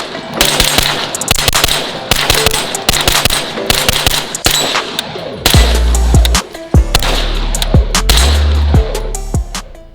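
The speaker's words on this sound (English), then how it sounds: "I just kind of wanted to shoot through that to see kind of how it feels" A 9mm AR carbine fires rapid strings of loud, sharp shots at an outdoor range, dense bursts with short pauses between, the closer reports booming deep and punchy.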